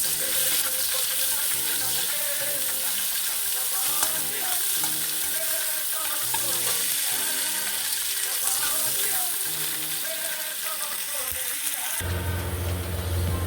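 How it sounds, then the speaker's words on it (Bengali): Onion frying in a pan for a bottle gourd and prawn curry, a steady close sizzle with occasional stirring scrapes throughout, ending in a louder, denser hiss near the end. "পেঁয়াজটাকে ভেজে নেব"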